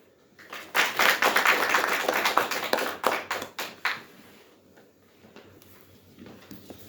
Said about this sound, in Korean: 여러분들 박수로 한번 주시면 감사하겠습니다.